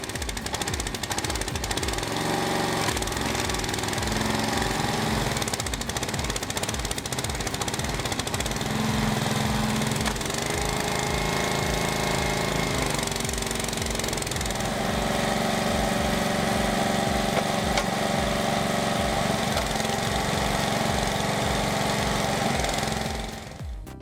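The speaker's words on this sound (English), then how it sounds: "A small engine powers a steel ram that multiplies force through fluid dynamics." A small engine powering a hydraulic log splitter runs continuously with a rapid knocking chatter, its tone shifting under load for a while before cutting off at the end.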